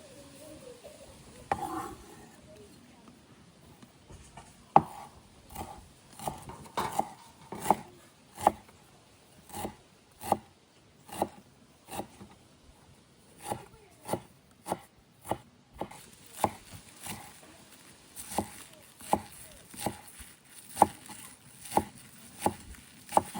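A knife chops fresh herbs coarsely on a board while beef liver with vegetables is being made, a run of sharp, fairly regular close taps with brief pauses, no talk.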